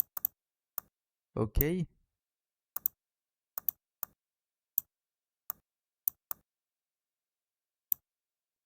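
Keystrokes on a computer keyboard while entering text in a design app, sparse separate clicks spread across the clip, with a short burst of speech near the start.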